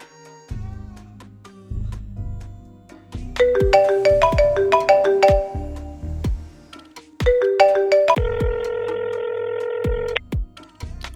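A phone rings in The Sims 4, bright electronic ringtone melodies repeating in bursts over soft game music, loud and close, with no one talking.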